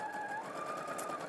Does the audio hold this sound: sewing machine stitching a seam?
yes